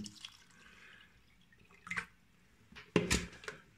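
Water splashes and trickles into a microwave container for poaching an egg, with a stronger pour near the end, close and fairly quiet.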